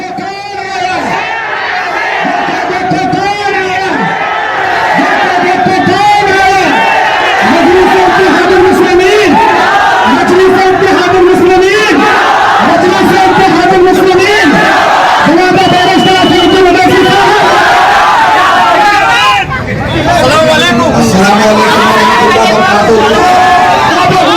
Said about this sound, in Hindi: असदुद्दीन ओवैसी को देखने के लिए देखिए बड़ी भीड़